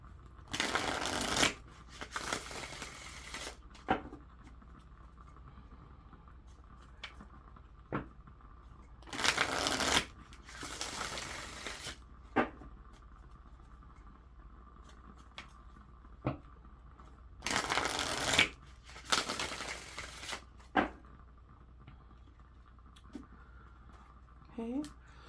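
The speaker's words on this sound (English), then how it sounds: "skip forward past the shuffling" A deck of tarot cards being shuffled in several distinct bursts of riffling and papery flutter, separated by quieter gaps, close to the microphone.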